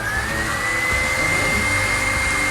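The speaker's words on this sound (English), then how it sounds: "I get my hair dryer, I put it on low." A hair dryer runs on its low setting, close by, as a steady unbroken whir with a faint high whine held throughout.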